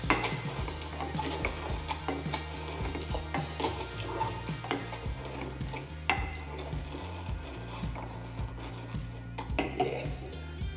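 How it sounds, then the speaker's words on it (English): Cucumber muddled in the metal base of a cocktail shaker, producing a steady series of close, rhythmic knocks and clinks over faint background music. "I muddle the cucumber in base of shaker"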